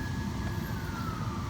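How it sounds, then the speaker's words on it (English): Police car and ambulance sirens wail outside a hotel in Washington DC, a steady rising and falling tone heard from indoors over low city traffic rumble. "it's pretty loud outside. There's a bunch of cop cars and ambulances"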